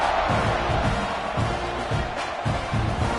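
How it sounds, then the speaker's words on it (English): Stadium crowd in a Florida at Texas A&M college football video game, a dense, continuous roar of cheering at a kickoff, with a commentator talking over it. "this crowd now ready to get behind them"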